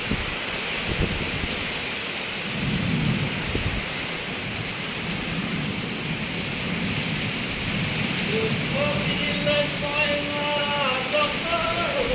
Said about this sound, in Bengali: এই দেখেন বৃষ্টি শুরু হয়ে গেছে